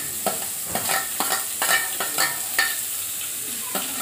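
Potatoes, beans and carrots sauté for masala pasta in a pan, a steady sizzle broken by repeated scraping stirs at an even rhythm, close and alone.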